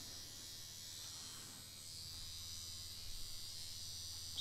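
A tattoo machine fitted with an Elite 5 round liner cartridge runs steadily, giving a continuous low electric buzz with a faint high whine, pulling lines on a practice surface with no talking.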